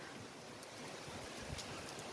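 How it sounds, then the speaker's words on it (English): A gust of wind from Hurricane Idalia rushes across the coast, a faint, steady broadband roar with low buffeting thumps against the microphone. "There's a nice gust coming through right there."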